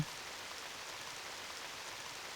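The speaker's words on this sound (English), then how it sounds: "Started to rain." Steady rain falling in the game Radiant Historia, a continuous even hiss of rainfall with no other sounds and no talking.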